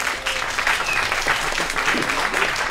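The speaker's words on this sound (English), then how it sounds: "Can you applause Magali, please?" A conference audience claps steadily throughout, a dense, even patter of many hands at moderate distance with no voices standing out.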